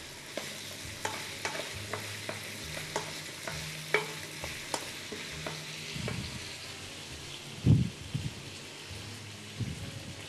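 Garlic-flavoured oil frying in a pan while it is stirred, with a steady sizzle and repeated scraping clicks of the spoon, plus a louder clatter near the end.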